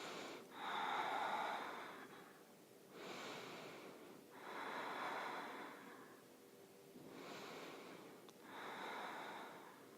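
Slow, long, deep breaths during a yoga class core exercise, with about four or five drawn-out airy inhale-exhale cycles, close and soft, with no talking.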